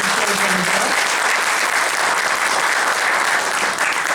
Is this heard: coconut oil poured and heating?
no